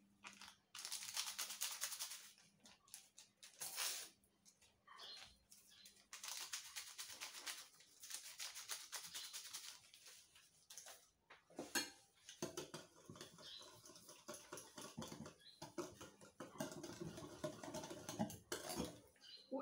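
Dough ingredients are stirred in a bowl, making irregular clinks, scrapes and soft patting knocks of utensil against the bowl, close by and uneven in rhythm.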